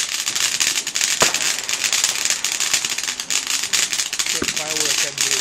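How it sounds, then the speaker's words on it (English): Fireworks bursting and crackling on bonfire night, rapid pops and sharp bangs fairly close, with people talking over them throughout. "Firework"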